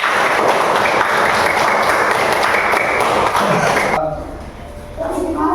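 Classroom students clap together in a dense burst of applause for about four seconds, then it cuts off abruptly, leaving quieter room sounds and light voices.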